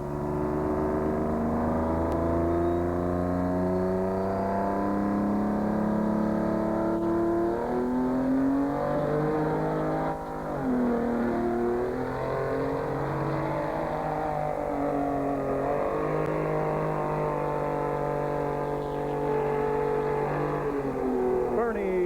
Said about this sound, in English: That Detroit V12 got a unique sound of its own.